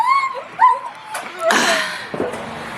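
Dogs bark, yip and whimper near a rabbit enclosure in quick, uneven bursts, loud and close, followed by rustling noise.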